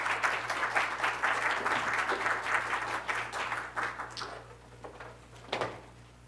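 Audience applause at a library talk, sustained clapping from a crowd that gradually thins and tapers off near the end, with a few scattered claps and a faint background hum.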